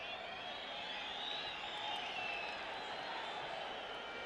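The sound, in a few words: stadium crowd at a football match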